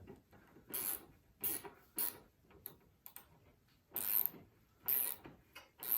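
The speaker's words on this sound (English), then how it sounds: "I'm going to tighten my hose clamp." A 1/4-inch drive ratchet clicking as it tightens a hose clamp on an International B250 thermostat housing, close, crisp ratcheting bursts in a stop-start rhythm of about seven strokes with pauses between.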